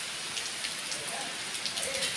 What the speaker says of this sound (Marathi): क्षणात या रिमझिम सरी बरसल्या